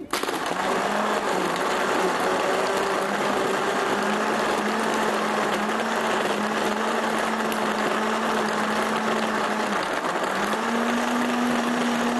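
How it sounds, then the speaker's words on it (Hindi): An electric blender whirs continuously as it blends a summer drink of lemon juice and black salt, a steady loud motor hum with one brief dip in pitch, and no voices. "और फिर मैं इनको कर दूंगी ब्लेंड"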